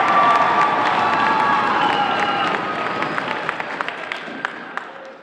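A school holiday assembly audience applauds and cheers for a student in a lit-up sweater, a dense, steady wash of clapping and shouts that gradually thins toward the end, with a few sharp claps standing out.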